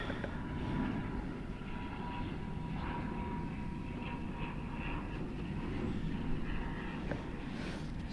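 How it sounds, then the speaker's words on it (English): Airplane flying high overhead, a faint, distant steady engine drone spread across a broad rumble, with small handling noises and no speech. "Now I don't know if it's picking up that plane up there, but it might be."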